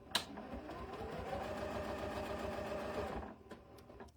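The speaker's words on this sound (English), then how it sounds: "I'm going to sew my straight seam all the way till I hit that blue mark there." A sewing machine runs a straight seam on a quilting machine, its fast even stitching whir steady and close for about three seconds, then stopping, with a few light clicks at the end.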